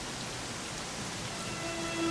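Rainfall in the video game Dragon Quest XI, a constant soft wash of hiss running evenly throughout with faint musical tones underneath and no talking.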